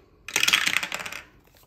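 Dice rolled onto a hard surface during a cash-stuffing budgeting game, a quick close burst of rattling clatters that settles after about a second.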